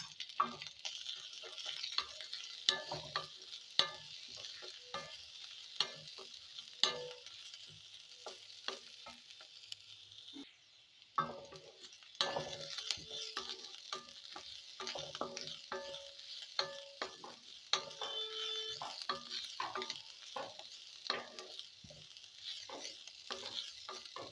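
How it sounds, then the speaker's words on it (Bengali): Grated ginger, onion and green chili frying in oil in a wok, a continuous soft sizzle with repeated spatula scrapes and taps in an uneven rhythm, close up and quiet. "এর মধ্যে দিয়ে দিচ্ছি গ্রেট করা আদা"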